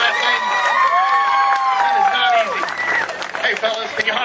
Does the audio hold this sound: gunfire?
no